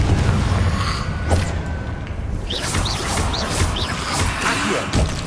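A Confringo blast spell goes off in Hogwarts Legacy, a loud booming impact with crashing debris and creaking, whooshing effects over a dense, continuous battle soundscape.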